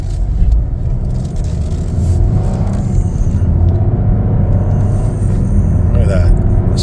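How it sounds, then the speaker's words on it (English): A 2024 Chevrolet Trailblazer AWD LS engine fires back up after an auto stop and the SUV pulls away, a steady low rumble of road and engine noise under someone talking throughout. "As soon as you let go of the pedal, it starts right up again"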